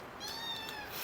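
Cats meow softly in a home, one drawn-out high call carried through a quiet room with little else around it.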